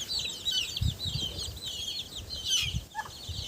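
A hen clucks in a steady, chattering stream close by, with soft thumps and rustling underneath and no talking.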